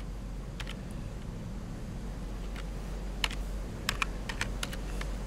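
Typing on a computer keyboard during a digital multimeter resistance test, with scattered light key clicks, a few sharper taps near the end, over a steady low hum.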